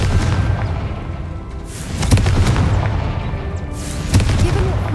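Confringo explosion spell cast in the video game Hogwarts Legacy: heavy booming blasts land around two and four seconds over a dense, rumbling battle bed, loud and close.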